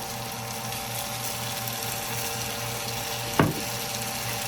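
Shredded potato bites frying in olive oil in a pan give a steady hiss and crackle throughout, with one sharp clatter near the end.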